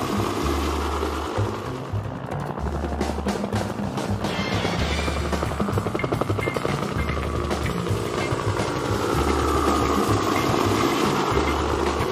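Army Huey helicopter in flight, its loud, steady rotor chop and turbine whine continuous and close throughout, with no voices over it.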